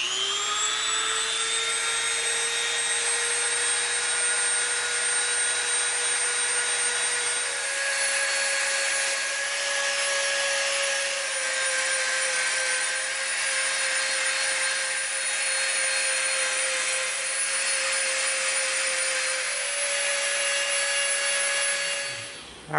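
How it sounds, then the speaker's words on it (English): A Dremel rotary tool shapes EVA foam with a loud, steady high-pitched motor whine that holds for over twenty seconds, its pitch shifting slightly under load, then cuts off at the end. "It's time for Dremeling. We are going to shape this thing up a little bit."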